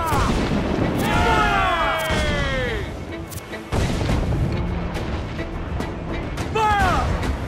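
Ship cannons fire repeatedly during a naval battle in the video game Assassin's Creed 4 Black Flag, loud booming volleys with whistling shots, alongside shouted crew commands.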